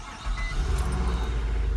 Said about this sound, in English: So go ahead and start the car up.